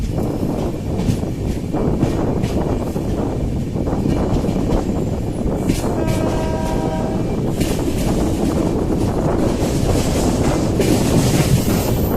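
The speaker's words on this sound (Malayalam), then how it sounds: "നമ്മൾ ഹരിദ്വാർ റെയിൽവേ സ്റ്റേഷനിൽ എത്തിക്കഴിഞ്ഞു" A train rumbles steadily at Haridwar railway station in Uttarakhand, India, with a brief horn-like tone partway through and gusty wind buffeting the microphone.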